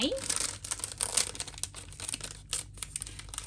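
A plastic packaging bag from a doll unboxing crinkles and rips under close handling, a run of loud crackling bursts with a voice heard briefly.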